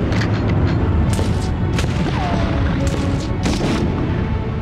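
Booming gunshots in the PlayStation 1 game Medal of Honor crack out repeatedly in irregular bursts, loud and punchy over a dense, rumbling background of explosions.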